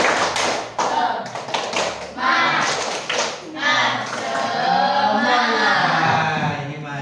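A group of participants performs the rhythmic 'tepuk semangat' clapping chant, sharp claps sounding in quick patterns at close range beneath a loud leader's voice and lively group voices.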